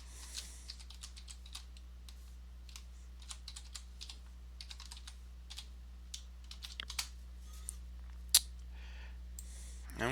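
Someone types a password on a computer keyboard while setting up Linux Mint after installation. The keystrokes come as a quiet, irregular series of close clicks, with one sharper tap near the end.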